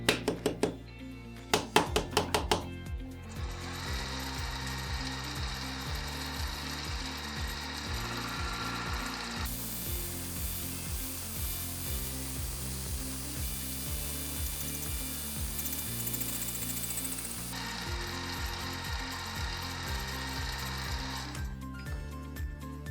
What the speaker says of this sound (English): I now set up the part in the milling vise and I clean up the first face.